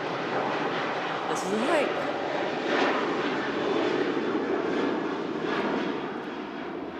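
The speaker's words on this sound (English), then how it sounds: "Ryanair heading off to Alicante, beautiful destination." A Ryanair airliner departs Manchester Airport bound for Alicante, its engines giving a steady, loud roar that persists throughout while someone speaks briefly over it.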